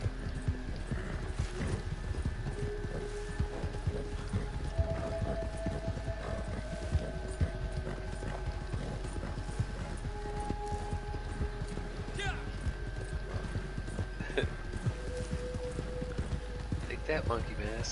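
A small, stout horse trots in a video game with steady, rapid clip-clop hooves and an occasional whinny, looping tones of the game behind it, while people talk over the top.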